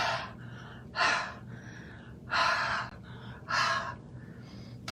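Three heavy, forceful huffs of breath blown onto a rubber stamp to remoisten its ink, each a loud breathy burst about a second long, spaced apart over quiet room tone.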